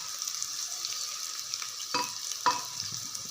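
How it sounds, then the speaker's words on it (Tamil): Fenugreek seeds sizzle and crackle in hot oil with a steady frying hiss, punctuated by a couple of sharper pops and stirring scrapes. "எண்ணெயில் கொஞ்சமாக நான் வெந்தயம் தாளிச்சுக்கிறேன்"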